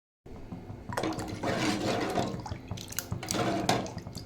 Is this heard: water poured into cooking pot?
yes